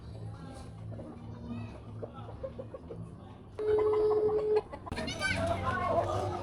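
A chicken clucks in short, scattered bursts, fairly faint, while people talk nearby and traffic-like background noise rises and falls.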